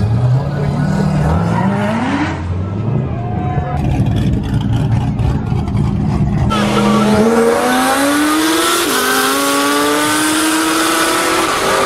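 A street race car revs hard and accelerates, its engine note climbing in repeated rising sweeps, loud and close, with people talking over it.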